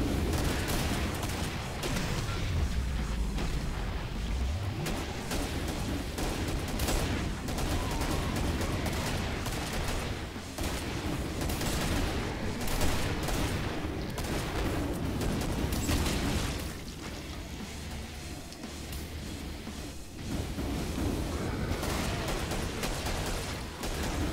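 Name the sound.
gunfire in the video game Killing Floor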